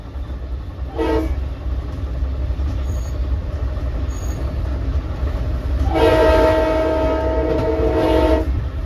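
A Long Island Rail Road locomotive horn at Hicksville sounds in two blasts, a short one then a longer, louder one, over steady rumbling rail noise; no voices.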